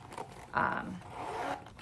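A zipper on a deep interior pocket of a luxury handbag vanity case is pulled in a couple of short, close scraping runs, the strongest pass in the middle, clear and unaccompanied by talk.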